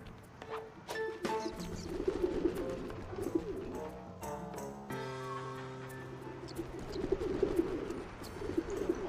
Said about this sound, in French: les pigeons, c'est classe.